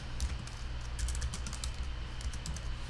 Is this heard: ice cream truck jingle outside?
no